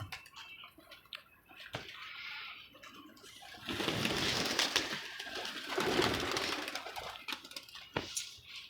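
Pigeons coo softly in a loose, murmuring patch over the middle of the clip, nearby, with scattered clicks and rustling around them and no talking.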